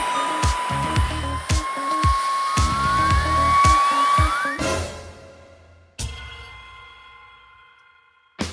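A 400 W vacuum cleaner runs on strong mode while sucking water from a tank, giving a rising whine with rapid pulsing bursts before it abruptly cuts out and leaves short bumps and silence.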